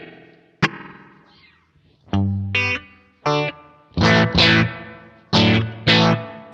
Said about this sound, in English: we might go to the reverb section and just add a little bit of spring reverb